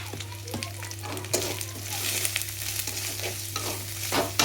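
Onion, ginger, garlic and cumin powder fry in a pan with a busy sizzle, broken by repeated scraping stirs and clinks of a spoon over a steady low hum; no one speaks.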